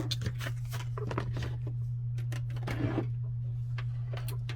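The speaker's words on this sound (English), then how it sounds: "let's grab the sewing machine" Rapid mechanical stitching of a sewing machine in short bursts over a steady low motor hum, close by.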